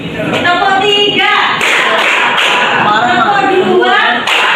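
A classroom group claps in response to a called-out count, producing a few sharp, loud, separated claps mixed with a voice talking over and between them.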